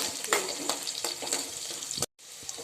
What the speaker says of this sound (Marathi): छान परतून घेऊया आपण हे